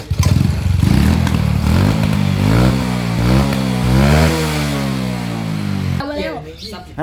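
A motorcycle engine revs in a repair shop with loud, close rising and falling sweeps over a clattering idle. The revving stops suddenly near the end, and voices speak over it.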